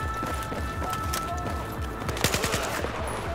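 Rapid machine-gun fire in the video game Battlefield 4, steady repeating bursts running throughout with a cluster of sharper, louder shots toward the end.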